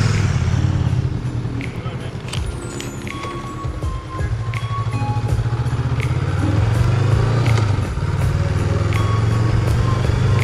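A Honda motorcycle engine drones steadily while riding, with a low rumbling hum, wind noise and occasional knocks throughout.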